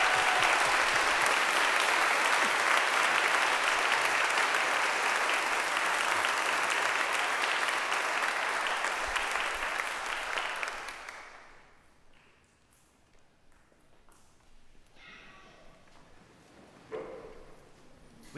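Church congregation applauding at a Sunday Mass confirmation, steady dense clapping for about eleven seconds before fading out into a quiet room with faint rustling and a few small sounds.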